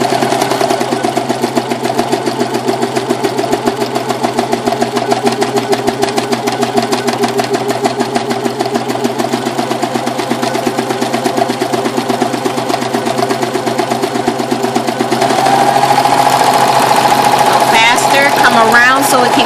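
A Brother 1034D serger runs steadily as fabric is fed through and trimmed, a continuous mid-pitched motor hum and needle whir that lifts slightly toward the end.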